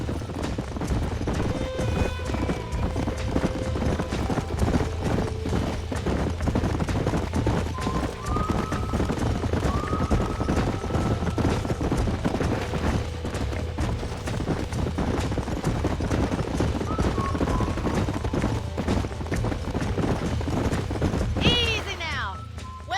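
Horses galloping in Red Dead Redemption, a steady clip-clop of hooves running close and loud throughout, with an occasional whinny, gunshots and music layered over it and voices talking on top.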